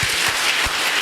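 Church congregation applauding during a worship service, a dense, steady wash of clapping from many hands throughout the short moment, loud and close, with faint low thumps underneath.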